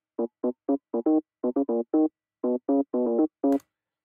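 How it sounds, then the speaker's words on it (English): A bass line played an octave higher on an organ sound in Ableton Live: short, clean staccato organ notes in a bouncy melodic pattern, isolated and fairly soft, ending with a brief click. "I just copy the bass line down to another channel which has an organ sound to it"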